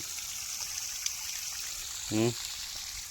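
Water pours steadily from a pipe with a continuous rushing hiss, close and even throughout, with a brief voice breaking in near the end.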